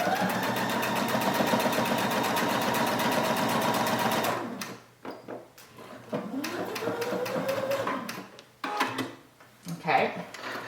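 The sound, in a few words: sewing machine doing a straight stitch on a homemade mask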